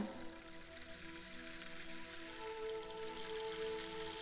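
At a live concert, a noise effect imitates rain: a soft, continuous hiss with faint sustained tones beneath, quiet and steady without speech.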